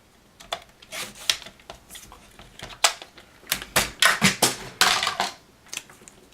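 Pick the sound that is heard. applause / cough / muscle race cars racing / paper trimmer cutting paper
paper trimmer cutting paper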